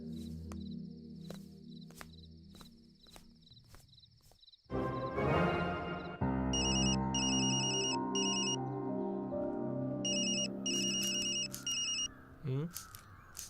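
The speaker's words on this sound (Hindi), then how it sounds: "फोन बज रहा है, सुनाई नहीं देता?" A telephone in a dubbed Telugu movie scene gives repeated electronic ringtone bursts in short clusters over background music, while people talk between the rings.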